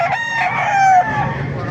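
A Hatch Grey gamefowl rooster crows once, close and loud, in a drawn-out call lasting under two seconds.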